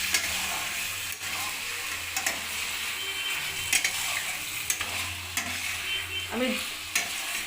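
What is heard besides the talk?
masala frying and stirring in pan with cauliflower and potato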